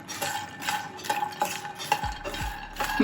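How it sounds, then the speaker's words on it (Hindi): Fox nuts (makhana) being roasted in a pan, stirred with a spoon in a rhythmic series of dry rattling scrapes and clinks, close and clear, no talk. "मखानों को भी हम थोड़ा सा रोस्ट करेंगे जब तक कि क्रिस्पी ना हो जाए।"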